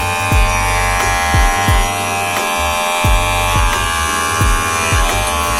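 A KEMEI 2022 cordless hair clipper runs close up, a loud steady electric buzz with a dense motor hum, broken by faint rhythmic thumps as it is handled, continuous throughout and without speech.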